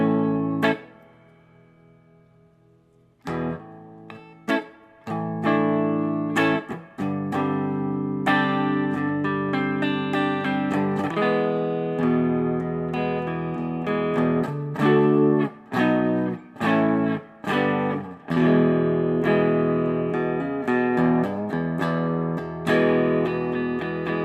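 An electric guitar plays through an amp with a Celestion Vintage 30 speaker and reverb on, ringing clean chords and single notes with sustained decays and some sharp, percussive attacks, loud and alone with no talking.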